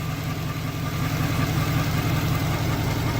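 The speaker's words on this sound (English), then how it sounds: "That is idling really nicely." A supercharged 4-litre V8 in a Jaguar car idles with a smooth, steady, low rumble. The engine note is close and even, with no talking over it.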